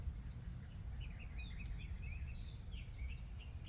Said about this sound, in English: But just listening to the birds